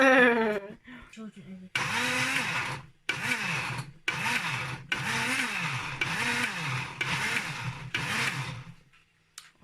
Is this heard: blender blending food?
yes